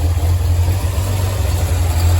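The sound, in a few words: Datsun 240Z engine idling a little rough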